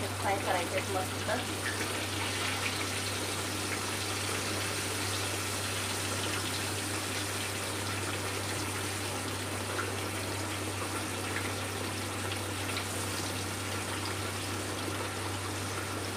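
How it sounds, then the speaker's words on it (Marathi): Bangda mackerel fish frying in a pan gives a steady, continuous crackling sizzle throughout, with a low hum underneath and no clear talking. "मस्त कडकसाठी मच्छी बांगडा आपला फ्राय होतोय"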